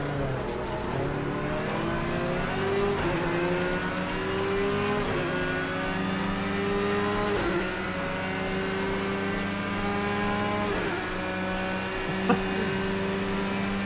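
Several race car engines in a racing video game drone steadily at high revs. Repeated gear shifts step the pitch up and down across a long stretch, with a brief sharp knock near the end.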